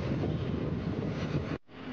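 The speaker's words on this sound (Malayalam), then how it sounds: "പിന്നെ ഞാൻ എഗെയിൻ ഒരു ഫ്ലൈറ്റ് ഇവിടെ കണ്ടു താഴ്ന്നു പറക്കുന്നത്." A low-flying airplane roars overhead as a loud, broad rumbling drone that cuts off abruptly near the end.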